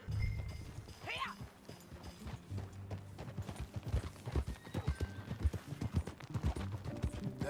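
A horse whinnies, then its hooves set into a quickening clip-clop gallop in Red Dead Redemption 2, the rhythmic beats growing louder and steadier.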